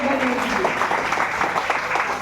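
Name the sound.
audience applause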